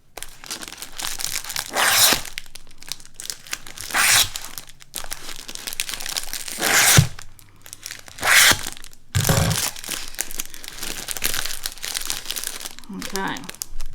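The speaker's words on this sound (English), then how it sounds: "It goes into a cellophane bag. The cellophane bag will be gathered." A cellophane bag is gathered around a handmade Father's Day gift, giving loud bursts of crinkling and rustling in irregular waves, with a voice talking alongside.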